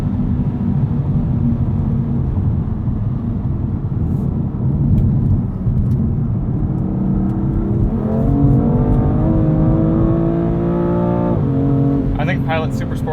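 Inside a 2020 BMW M2 Competition, steady road drone gives way to the engine winding up through a long, rising pull, then a sudden drop at an upshift, loud and close throughout.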